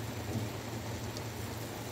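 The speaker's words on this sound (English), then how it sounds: "look how bad it's raining." Steady, dense mountain rainfall hisses without a break over a campsite, with a low rumble of distant thunder underneath.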